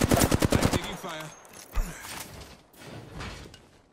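Bursts of rapid gunfire fire in a video game, a quick string of shots at the start followed by scattered impacts and mechanical clatter, with a voice speaking over part of it.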